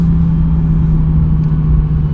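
A Lexus LFA engine gives a loud, steady low rumble, idling evenly throughout, with no revving or speech.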